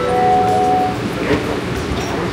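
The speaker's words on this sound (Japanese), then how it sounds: "あのモノレールみたいな電車に乗ります。 今ちょうど来たかな、来てますね。" An automated airport people mover at Atlanta's airport pulls in, a rolling rumble with a brief high tone early on, and faint talk beneath.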